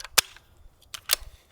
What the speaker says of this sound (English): 18-inch barrel suppressed subsonic 22.